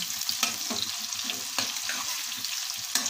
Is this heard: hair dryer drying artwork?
no